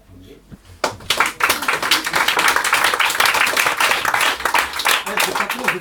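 Applause after a poem reading breaks out abruptly as a burst of dense, loud clapping that carries on steadily, with voices talking underneath.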